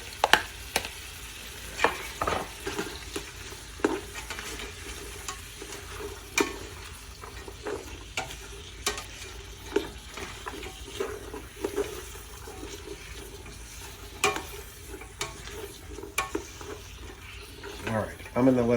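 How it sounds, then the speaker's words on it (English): Onions for Japanese curry get stirred in a pot, giving soft scraping and clinking of a utensil at irregular intervals over a steady low sizzle, fairly close and with no talking. "we're just going to keep stirring that in and cook it for about another 5 minutes until the onions kind of start to turn translucent"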